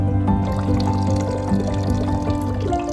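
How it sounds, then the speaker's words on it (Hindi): Water flowing out from inside the rock and feeding a waterfall, a continuous pouring and trickling gush with bubbling spatters and a few faint tonal hums, close and steady for the whole clip. "ये वाला झरना जो पत्थर के अंदर से पानी आती है"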